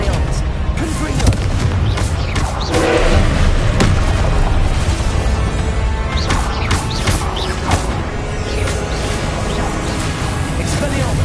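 Confringo blasting spells set off repeated booming explosions in Hogwarts Legacy, a dense and loud run of crashes and rumbling over continuous game noise, without pause for the whole stretch.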